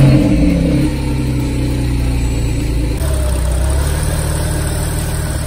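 A stick-shift Porsche at a cars and coffee meet idles loud and close, its deep engine note shifting pitch and rising briefly as the throttle is blipped, with no talk over it.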